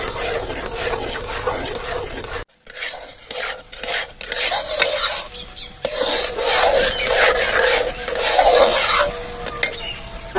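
Aloe vera halwa with split milk being stirred and fried in a pan, repeated scraping and rubbing spoon strokes over a low sizzle, close and fairly loud after a brief pause, no talk.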